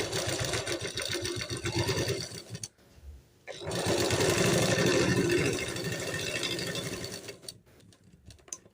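Sewing machine stitching a lined kurti, running in loud, close, rapid mechanical bursts with a short pause near the middle and trailing off at the end.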